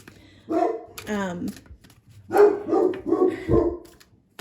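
Indoors, a dog barks at something outside a window, giving several loud, close barks and yips in irregular bursts with short gaps between them.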